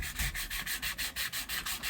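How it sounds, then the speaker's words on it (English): Sandpaper rubs back and forth over a built-up copper pipe to clean it before a press fitting, a quick steady scraping rhythm of about nine strokes, close and clear. "you got to come in here, guys, and you got to sand this copper"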